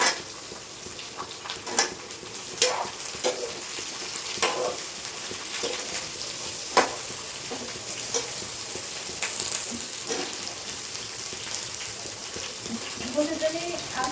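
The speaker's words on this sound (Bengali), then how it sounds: "বেগুনটা সর্ষের তেল দিয়ে রান্না করি" Eggplant fries in mustard oil, a steady crackling sizzle with scattered pops and occasional utensil scrapes running throughout, while someone talks over it.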